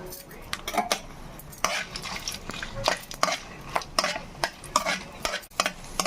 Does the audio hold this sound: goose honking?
no